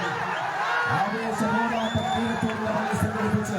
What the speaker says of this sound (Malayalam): കൈയടിച്ച് മാത്രം സ്വീകരിക്കുക